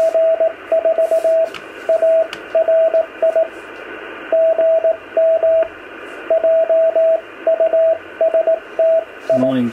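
Morse code CW signal on amateur radio from a 1930s-style one-tube transmitter, a clear steady tone keyed in rhythmic dits and dahs over a faint hiss, with pauses between groups.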